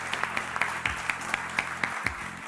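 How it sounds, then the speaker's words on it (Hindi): Studio audience at a Pakistani talk show opening claps along in a steady, evenly spaced rhythm, each sharp clap standing out over a low room hum. "तो जोरदार तालियों से आगाज करेंगे"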